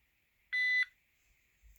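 A single short electronic beep from an AMG Lab Bluetooth shot timer, sharp and steady, rings out once against near silence.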